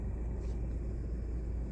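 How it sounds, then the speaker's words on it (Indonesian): Car air conditioner blower running steadily without squeaking, a constant low whooshing hum heard up close and alone. "Itu suara blower bunyi emang muter, cuma nggak ada cicit-cicit lagi kan?"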